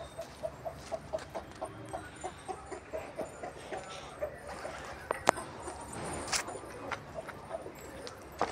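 Hen clucking in short, regular calls near a chicken coop outdoors, a light rhythmic series over steady background noise.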